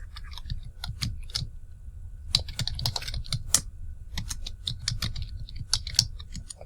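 A password goes in on a computer keyboard: quick, close key clicks in uneven bursts, with short pauses between groups of keystrokes and no talking.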